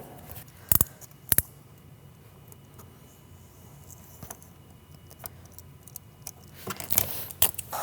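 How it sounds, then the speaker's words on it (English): Vinyl wrap on a car mud flap is trimmed in a quiet workshop: a couple of sharp snips or cuts stand out early, then faint scraping and small ticks follow, and a cluster of louder clicks and rustles comes near the end. "we're going to go ahead and trim this area out on the mud flap"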